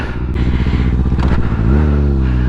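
Kawasaki ZX6R sport motorcycle engine running loud and close in winter, a steady throbbing idle that rises into a rev partway through, with no talking.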